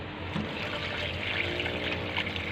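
Dissolved fertilizer solution is poured onto a potted flowering plant, giving a steady, close splashing trickle of liquid that runs without a break for the whole moment.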